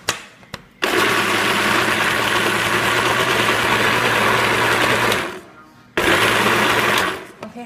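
Loud motor whir of a kitchen blender pulverizing warm homemade puppy food, running steadily for several seconds, pausing briefly, then starting up again.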